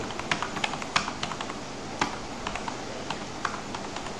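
Numbers are tapped out on a computer keyboard in a word processor, giving a quick irregular patter of close key clicks with brief pauses between bursts.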